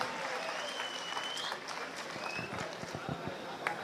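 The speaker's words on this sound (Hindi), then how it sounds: "जोरदार तालियों के साथ अभिवादन करें।" Crowd applause welcoming a speaker at a public gathering, a fairly faint, continuous patter of clapping with a few whistles and voices mixed in, heard from some distance.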